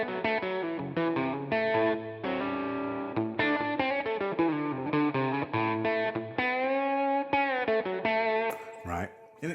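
A Telecaster electric guitar runs through a southern-style lick in A, played solo with distortion and chorus effects: sustained, bending notes flowing in a continuous, fairly loud phrase that ends in a few scratchy strums.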